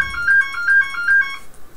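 A phone ringtone chirps out a repeating electronic melody in short bursts during a League of Legends game session, loud and close, cutting off near the end.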